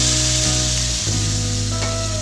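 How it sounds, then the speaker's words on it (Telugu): Cooked dal added to a sizzling tempering in a pan for dock sorrel leaf pappu, a loud continuous sizzle with a dull thud and a change in tone as the dal goes in. "తాలింపు బాగా ఫ్రై అయిన తర్వాత మనం ముందుగా ఉడికించుకున్న పప్పు వేసుకోవాలి."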